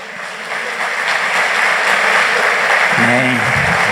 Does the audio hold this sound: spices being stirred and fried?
no